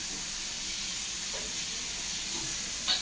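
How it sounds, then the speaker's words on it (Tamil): Onion and tomato sauté in a pan for a peanut curry, a soft even sizzling hiss with faint stirring touches and a small clink near the end, no voices. "இப்போ இந்த வெங்காயம் தக்காளி போட்டிருக்கோம் பார்த்தீங்களா வெங்காய தக்காளியை போட்டு அது நல்லா வதங்கணும்"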